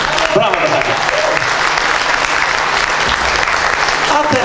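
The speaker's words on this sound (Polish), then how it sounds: "brawa dla Tadka" An audience at an anniversary concert applauds loudly and continuously, with dense clapping and some voices mixed into the crowd noise throughout.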